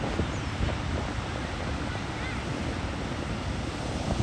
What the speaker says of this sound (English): Now we're at Rodeo Beach, y'all.